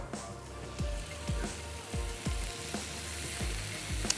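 Vegetables sautéing in hot oil in a pan for chickpea fajitas, a steady close sizzle broken by regular soft knocks of a utensil roughly every half second.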